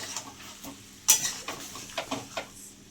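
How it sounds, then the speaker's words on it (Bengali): Chicken curry being sautéed and stirred in a pan: a spoon scrapes and clatters against the metal in irregular strokes, one sharp clank standing out, over a faint sizzle. "এবার একটু খানিক্ষণ কষতে হবে"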